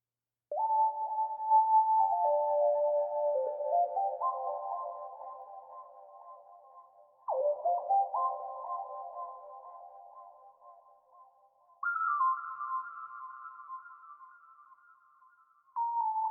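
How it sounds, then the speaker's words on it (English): A soft synth lead with Valhalla vintage reverb plays slow, gliding note phrases with long decaying tails and echoing repeats, quiet and alone. "going on to the next instrument I have is this sound lead right here"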